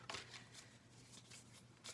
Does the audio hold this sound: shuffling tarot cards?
yes